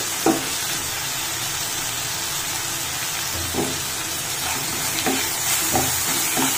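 Ginger and garlic paste fries in oil for an Odisha-style mutton curry, a dense, even sizzle close up, punctuated by a few soft stirring knocks.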